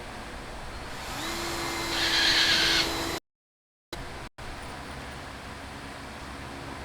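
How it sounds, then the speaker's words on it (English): A drill bores pilot holes for screws in the deck of a Ricmotech RS1 sim rig, a steady motor whine rising and holding for about two seconds, then stopping abruptly. "And we're we're pilot drilling our screw holes."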